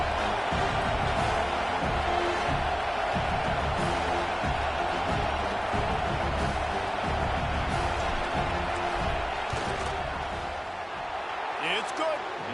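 A football stadium crowd roars loudly and steadily as a field goal attempt lines up, making a dense wall of noise with thumps and scattered whoops, while a commentator talks over it.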